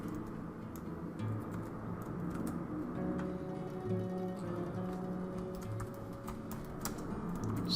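Java code is typed on a computer keyboard in quick, irregular runs of soft key clicks, fairly faint, with a low steady hum underneath and no talking.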